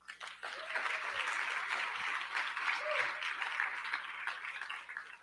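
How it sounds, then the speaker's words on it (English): A crowd at a business awards ceremony breaks into sustained applause, a broad, even wash of clapping hands with a faint voice briefly rising beneath it. "Can you please give a big round of applause to Mr."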